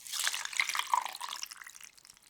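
Vinegar pours into a large glass bowl of chicken marinade with soy sauce and pepper, a brief bright splashing trickle that starts strong and fades within about two seconds.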